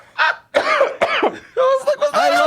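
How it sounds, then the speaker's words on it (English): A person coughs repeatedly in quick, loud, close bursts, a harsh hacking series with throat-clearing quality and no words spoken. "It's a cough."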